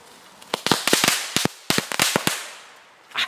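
A string of tiny Lady Cracker firecrackers crackles off in quick succession, a dozen or so sharp, close snaps with short gaps between them before the noise fades into a quiet tail.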